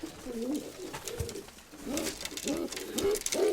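Several pigeons coo in a dovecote housing young squabs, repeated rolling throaty calls coming in close, regular phrases with a brief lull in the middle.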